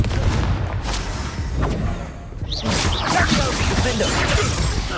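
Confringo spell blasts in the video game Hogwarts Legacy, loud whooshing fire and crashing booms that run on for several seconds, briefly thinning in the middle before another burst of rushing impacts.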